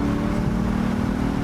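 Lexus LC 500 engine and exhaust note while driving, a steady, loud and close drone with a deep, sustained tone and no voices over it.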